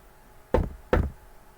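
Two firm knocks land on a door about half a second apart, close and solid, with quiet before and after and no voices.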